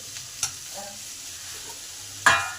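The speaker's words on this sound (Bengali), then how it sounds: "তাহলে টমেটোটাও সেদ্ধ হয়ে যাবে আর ভাজা ভাজা হয়ে যাবে অল্প তেলেই" Chopped tomato frying in a little oil, a soft steady sizzle with two sharp clinks of a utensil against the pan, the second louder near the end.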